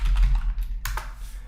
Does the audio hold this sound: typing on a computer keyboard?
yes